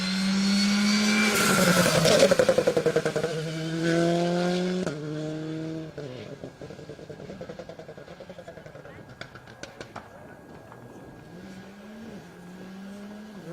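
A rally car accelerates hard through its gears on a special stage at Rally Wervik 2022, engine pitch climbing and dropping with each shift, while a commentator talks over the passing roar.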